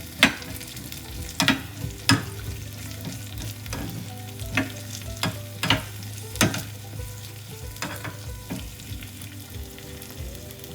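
Dry fruits frying in a pan until golden for a fasting kachori stuffing, a steady low sizzle with repeated sharp scraping stirs and clinks at an uneven rhythm, close and moderately loud with no voices.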